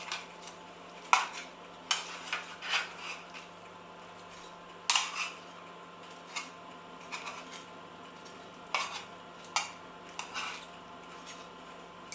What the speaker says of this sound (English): So the halloumi is done on one side, so just flip them over.